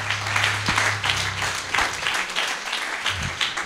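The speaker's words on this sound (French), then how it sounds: "Applaudissons un peu Jéhovah." A church congregation breaks into applause, a burst of clapping from many hands that rises and tapers within a few seconds, with a brief low hum at the start.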